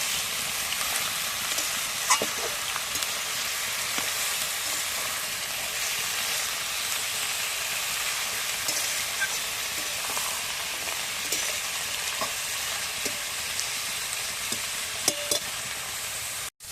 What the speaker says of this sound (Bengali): শাকটা দিয়ে তেলের মধ্যে একটু ভালো করে নাড়াচাড়া করব।